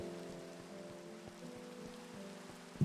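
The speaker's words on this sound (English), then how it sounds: "Nice weather effect. I sure do love me some rain." Rain falls as a Minecraft weather effect, a faint steady patter with a soft low tonal hum beneath and a brief louder bump at the end.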